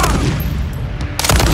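Gunfire in the Call of Duty: Modern Warfare III campaign crackles in a brief, loud burst of rapid shots, with the heaviest volley arriving near the end.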